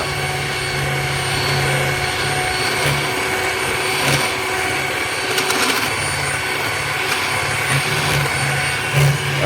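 An electric mixer runs at full speed whipping mayonnaise, a loud steady whirring drone that holds evenly throughout with slight fluctuations and no talk.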